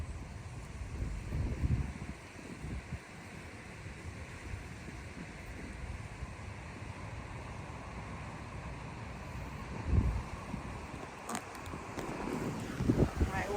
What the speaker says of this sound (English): I don't know if we're able to block the wind at all, but again, it's crazy windy here.